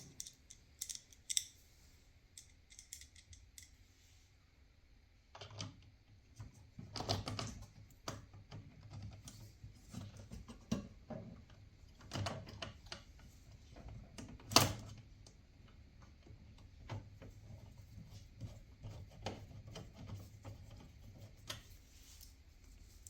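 Screws are started loosely while an LED UFO mod is fitted to a Stern Foo Fighters pinball machine. Faint, scattered clicks, ticks and scrapes of small metal parts are heard up close, some louder than others, in a quiet room.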